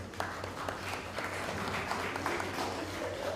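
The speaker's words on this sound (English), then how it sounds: "So just give yourself a round of applause." An audience applauds at a commissioning ceremony for justices of the peace, with steady, fairly quiet clapping that sounds somewhat distant and carries on evenly with scattered sharper claps.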